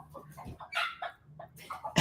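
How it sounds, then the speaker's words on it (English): Chickens clucking nearby indoors: a series of short, choppy clucks and low calls in quick succession, fairly close and clear, with a louder squawk at the end. "Hear it? The chickens."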